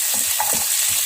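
Small onions and green chillies frying in a pan, giving a bright continuous sizzle with a few soft stirring scrapes over it, close up and with no talking.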